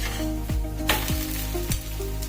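Masala rava rotti cooking in oil on a pan gives a close, steady sizzle, broken by a few soft scraping and tapping sounds across a couple of seconds.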